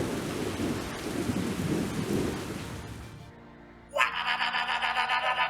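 Rain and rumbling thunder from an electrical storm roll on for about three seconds, then cut abruptly to a different, tonal sound with a sharp onset.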